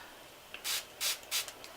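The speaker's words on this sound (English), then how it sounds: "So I'm just going to spray this brush" Three short hissing spritzes from a spray bottle of Mist and Fix setting spray onto a makeup brush, evenly spaced and close, with faint rustling between them.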